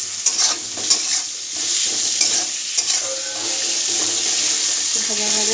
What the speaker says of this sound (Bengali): আলুগুলো দিয়ে একটুখানি নেড়ে